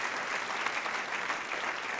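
A church congregation claps steadily and loudly, a dense, even wash of many hands throughout, with no voices standing out.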